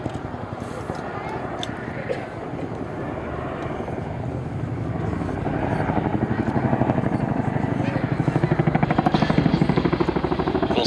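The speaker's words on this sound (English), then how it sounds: "We'll see the Chinook soon performing another quick stop." A Boeing Chinook tandem-rotor helicopter flies past during a quick-stop manoeuvre, its rhythmic rotor thumping building louder and closer through the second half over steady turbine whine.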